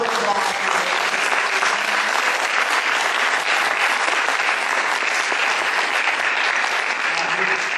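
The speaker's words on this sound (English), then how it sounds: "let's all give them a round of applause." Audience applause closing a League of Women Voters school board candidate forum, a dense, steady wash of clapping from a crowd filling the room, sustained at even loudness from start to finish.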